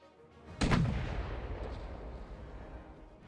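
A ship's cannon fires once in the sailing video game Sail, a single loud boom with a long rumbling tail that fades slowly, heard alone.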